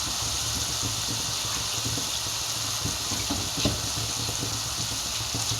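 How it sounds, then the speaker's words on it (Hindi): Water added to masala frying in a pan gives a constant loud hiss and sizzle with faint bubbling and stirring scrapes, close up and without voices. "तो अब मैं इसके अंदर डालूंगी थोड़ा सा पानी।"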